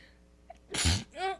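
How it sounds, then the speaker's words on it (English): A single loud, close sneeze with a sharp intake of breath before it, followed by a short vocal exhale. "Oh, I'm going to sneeze."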